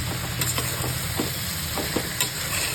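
A marinated soybean pulao mixture sizzles steadily in a pan, with a spoon stirring and scraping in soft repeated strokes close by, no voices.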